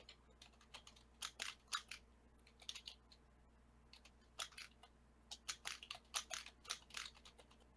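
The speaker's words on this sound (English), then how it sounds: "Somebody's got a noisy keyboard." Clacking keys on a noisy, old computer keyboard, typed in short irregular bursts with brief pauses, fairly close and alone over a low steady hum, during a tabletop role-playing game session.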